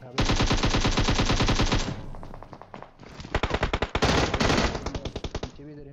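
Rapid automatic gunfire from two teams fighting in the PUBG Mobile video game, loud and close, with sustained machine-gun bursts, a brief lull, then renewed dense firing and some sharper single shots.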